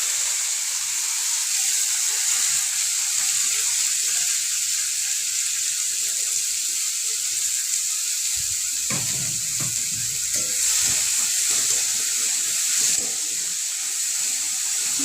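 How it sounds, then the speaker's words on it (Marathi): Washed cabbage tipped into hot oil with crackling cumin seeds, a loud continuous hiss of frying close up, with a few thuds and scrapes of stirring partway through. "त्यामध्ये थोडेसे जिरे टाकायचे आणि मग आपला धुवून घेतलेला कोबी टाकायचा"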